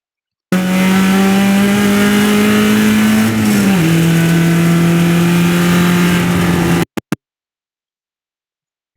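A race car engine at VIR North roars loud and close, holding steady at high revs, then lifts to about half throttle with a clear drop in pitch before cutting off abruptly.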